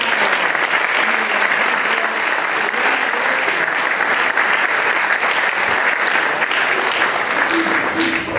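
Sustained applause from a concert audience at a choral festival in Capriva del Friuli, dense and even clapping that carries on for several seconds at full strength.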